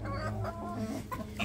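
Chickens and roosters cluck and mutter in a poultry yard, several birds overlapping in short, close, choppy calls.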